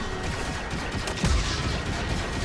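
A turret in the Star Wars Outlaws game firing rapid blaster bursts amid a dense, steady battle din, one heavier blast standing out midway.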